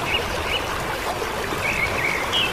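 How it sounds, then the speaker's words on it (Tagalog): Heavy rain pouring steadily in a Philippine neighbourhood, a dense, even hiss of falling water with no pauses, with a few faint bird calls over it and no talk. "Nag-uulan talaga yan ng pagkaubod lakas-lakas."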